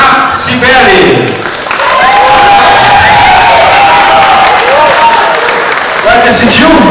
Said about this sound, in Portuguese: Palmas para Cibele